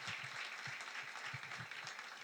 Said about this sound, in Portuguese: Palmas para o Cru de novo